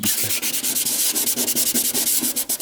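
Steady, rapid rasping of 80-grit sandpaper scrubbing back and forth over Bondo body filler on a Nissan S13, loud and close with a quick regular rhythm.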